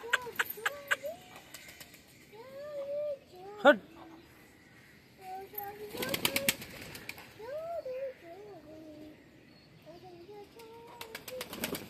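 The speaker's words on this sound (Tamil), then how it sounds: "புறாக்கள் எல்லாமே அழகா இற சாப்பிட்டு இருக்கு." Pigeons coo repeatedly in soft, rolling calls, with a few wing flaps and scattered voices nearby, outdoors at moderate loudness.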